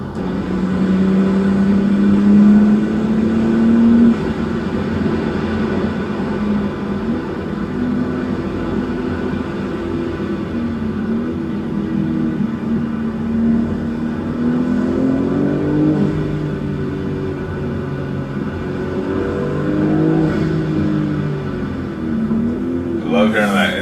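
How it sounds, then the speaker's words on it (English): Intake roar of a BMW M4 G82 accelerating on a night drive, heard from inside as the engine climbs through rising pitch sweeps and eases off between pulls, with occasional voices over the rumble. "Love hearing that intake."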